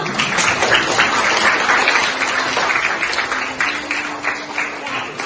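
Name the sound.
classroom applause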